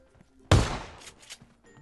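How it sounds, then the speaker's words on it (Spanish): Gunfire in the battle-royale game PUBG Mobile: one loud, sharp shot with a long decaying tail, followed by a couple of fainter distant shots. "Y más disparos"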